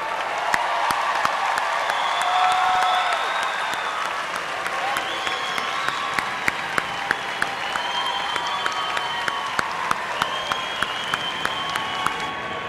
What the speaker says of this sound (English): Give our graduates one more round of applause.